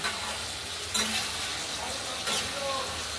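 Spice masala fries and sizzles in hot oil, a steady hiss broken by a couple of scraping stirs of the spoon, close and fairly quiet.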